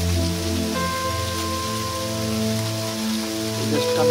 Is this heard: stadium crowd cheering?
no